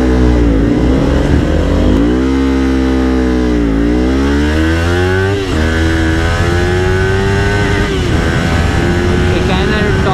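A 2019 Kawasaki Ninja 400 motorcycle engine revs loud and close, pitch sweeping up and down through several throttle blips before settling into a steady high drone.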